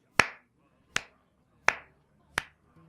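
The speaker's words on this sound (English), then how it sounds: "You may have the slowest clap of all time there." Four sharp, evenly spaced claps ring out in Hearthstone, slow and deliberate about two-thirds of a second apart, crisp and close with nothing else heard.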